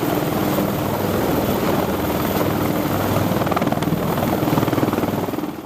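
A military helicopter aboard a US amphibious assault ship at sea churns with a fast, loud, continuous rotor chop and engine whine, the beat steady and close throughout.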